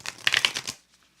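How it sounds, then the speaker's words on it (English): Playing cards are shuffled close up in a quick riffle of crisp flutters that lasts under a second and then goes quiet. "We're both doing some shuffling noises."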